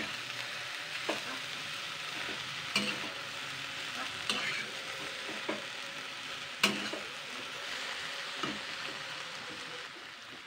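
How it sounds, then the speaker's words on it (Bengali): Dheki shak fern greens are stir-fried in a pan with a soft, continuous sizzle. Sharp scraping clicks from the stirring come at irregular intervals, quiet and close. "এই ঢেঁকি শাকটা আমি কিন্তু জাস্ট 2-3 মিনিট নাড়াচাড়া করব"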